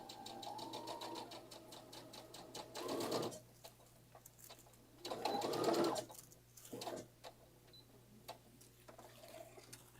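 A sewing machine hems the edge of a dress, its motor whirring in bursts that stop and start, with louder runs near the middle of the stretch and quieter pauses between.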